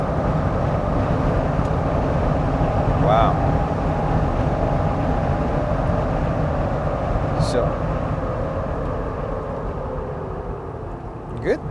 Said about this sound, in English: But the wind noise, yes, you're gonna have to deal with that.